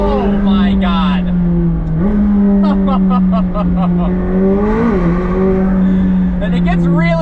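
A McLaren 765LT Spider accelerates hard with a loud, steady engine drone close inside the cabin, its pitch stepping up through gear changes while someone talks excitedly over it.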